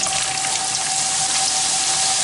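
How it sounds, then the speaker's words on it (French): French fries plunged into hot frying oil at home, giving a loud, steady, dense hiss and sizzle that fills the clip without pause, with a faint tonal whine running underneath and no talking. "on fait chauffer son huile et on plonge ses frites"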